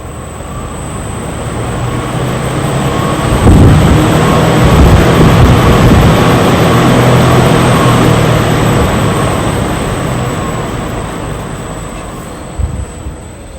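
Industrial ceiling fan running at maximum speed indoors, a loud steady roaring whoosh of rushing air that swells slightly and holds throughout, with no talk.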